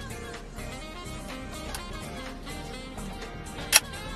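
A Leotax rangefinder camera, a Barnack-style interchangeable-lens body, fires its shutter at a slow speed: one sharp, brief mechanical click near the end, standing out above faint background noise.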